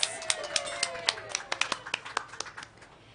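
Audience applauding newcomers to canning at a food independence summit, a run of sharp, uneven claps spread across several seconds at moderate distance, with a faint voice running underneath.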